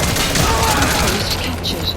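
Sustained cover gunfire in Metal Gear Solid V rattles as a dense, continuous volley of shots close by, layered over a low rumbling background.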